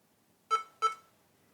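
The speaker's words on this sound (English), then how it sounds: "this does beep twice when you boot into it" A computer booting the Kali Linux installer gives two short, identical electronic beeps about a third of a second apart, clean and close against near silence.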